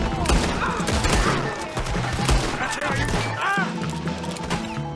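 Gunshots in Red Dead Redemption 2 crack through a dense, chaotic firefight, with bursts and impacts layered over game music and effects at steady high loudness.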